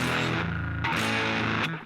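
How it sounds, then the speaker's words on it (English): Thick, dense fuzz-like distortion on a sustained guitar tone, a heavy buzzing chord that holds with a brief re-strike partway and another near the end before fading out, no talk over it. "Really more of a fuzz-like distortion to my mind."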